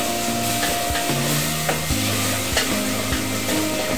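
Onion and leek sweating in a pan for lentil soup, a steady close sizzle with stirring scrapes and occasional wooden-spoon knocks, no one talking.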